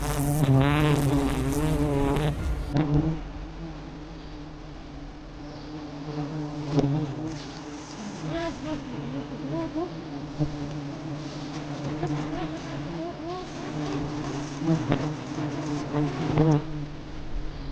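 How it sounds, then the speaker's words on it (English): A dense swarm of honey bees hums steadily nearby around their brood combs high on a cliff, a continuous layered buzz with individual bees droning past now and then. "The bees are starting to settle back onto their remaining brood combs"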